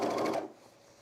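A sewing machine stitches elastic into a skort waistband in a short burst of quick needle rattling that stops abruptly, leaving near silence.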